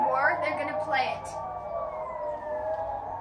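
A civil defense siren sounds during a practice test in Switzerland, a loud rising and falling wail heard from indoors, gradually settling into a long steady tone, with a voice speaking over the start.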